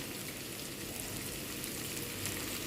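Half-fried free-range chicken sizzles steadily as it is stir-fried in a pan, a faint, even crackling hiss that continues without talk.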